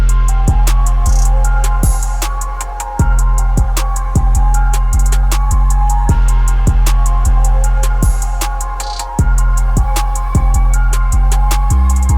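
A hip hop beat plays from a project file, with heavy booming bass and kick hits, crisp steady hi-hats and melodic layers in a loud, dense, looping groove with no voices.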